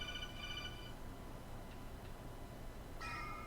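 Faint bursts of a real phone ringtone sound twice, near the start and again after a pause, over quiet steady room noise.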